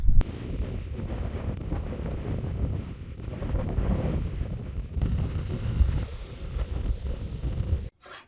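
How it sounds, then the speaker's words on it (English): Strong wind roaring and buffeting outside, with steady broadband gusts and rumbling microphone wind noise throughout, briefly dropping out near the end. "the wind is definitely starting to pick up"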